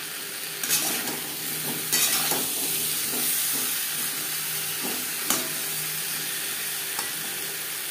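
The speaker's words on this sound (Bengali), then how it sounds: "লবণ, হলুদ ও মশলা আলুর সাথে বেশ ভালো করে মিক্স করে দেব।" Potatoes being stirred with salt, turmeric and spices in a pan for a light Bengali fish curry, a steady close sizzle broken by several scraping strokes of a spoon against the pan.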